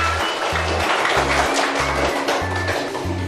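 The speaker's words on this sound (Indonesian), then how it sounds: "tepuk tangan untuk kita semua" A classroom of children claps together, a busy patter of hands mixed with a repeating low thumping beat, steady and fairly close.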